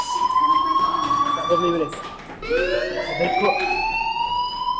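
A fire alarm in the video game Life Is Strange rings with a steady electronic tone, loud and continuous, briefly dipping before resuming, while a voice speaks over it.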